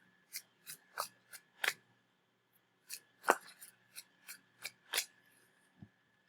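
A tarot card being pulled from a deck during a reading, a run of quiet, crisp shuffling and card-slapping flicks in irregular bursts, close and soft with no talking.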